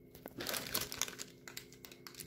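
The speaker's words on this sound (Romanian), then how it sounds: "Pungi de gunoi din acelea micuțe." A package of small plastic garbage bags being handled, giving steady close crinkling and crumpling with a few sharper rustles, no voices.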